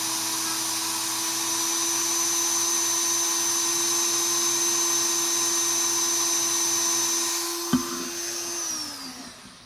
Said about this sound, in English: I just turned the Dremel on pretty low and holding it at an angle to the wheel